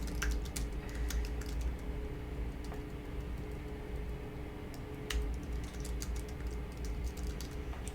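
Computer keyboard typing in a quiet room, a steady stream of soft clicking keystrokes with occasional sharper taps over a low background hum, with no talking.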